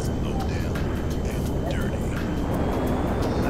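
Steady droning aircraft engine from a plane in GTA Online, a dense continuous roar that holds level throughout with faint voices underneath.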